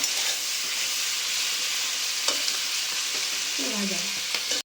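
Capsicum and onion frying in a pan with salt and turmeric, a steady close sizzle with occasional scrapes and stirs of a utensil, a brief clatter near the end, no voices.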